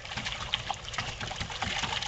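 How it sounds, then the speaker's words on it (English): Water splashes and trickles in a backyard pool, a run of light, close splashes at moderate level with no talk over them. "All right, splash."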